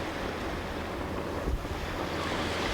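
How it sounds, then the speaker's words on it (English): Continuous ocean surf with waves washing steadily, mixed with wind noise buffeting the microphone, a slightly heavier swell rolling in midway, no voices present. "perhaps guided by the sound of the ocean"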